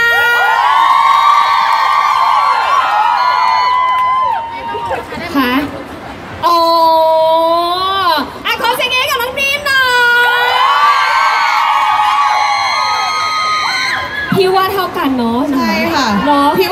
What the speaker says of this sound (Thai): ขอเสียงกรี๊ดให้กับน้องแนทหน่อยค่ะ